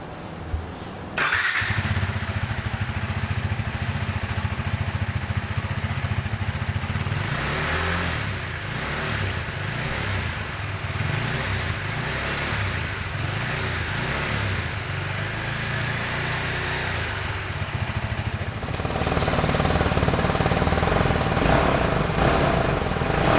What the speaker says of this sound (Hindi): सो अभी मैं आपको इसका एग्जॉस्ट नोट सुना देता हूँ।